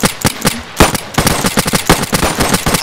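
Rapid gunfire in a Roblox roleplay game: loud, dense bursts of shots crackle almost without pause, close and harsh, filling the whole stretch with barely any gaps.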